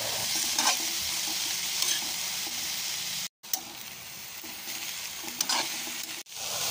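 Carrots, Baguio beans and atchara sauté in margarine for pansit bato, a loud continuous sizzle with scraping stir strokes, two short cuts interrupting the frying.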